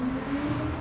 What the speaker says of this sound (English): they hear instead a roar as the engine pulls her up and over the surface of the water